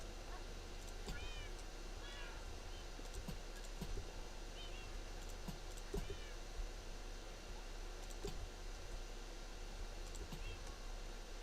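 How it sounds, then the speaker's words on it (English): Many cats in the Minecraft video game meow repeatedly and loudly, overlapping mews and wails recurring every second or two over a steady ambient game background. "I have so many cats. They are so loud."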